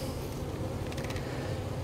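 Honeybees in a live beehive installation hum in a steady, continuous drone, close and moderately loud, with faint creaks and shuffling underneath.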